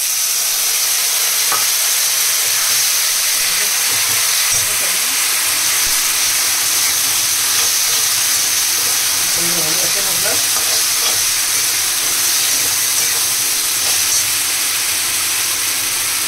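Chicken for kosha fries in a pan with ginger paste and chili paste, a loud continuous sizzle and hiss with the occasional clink and scrape of stirring.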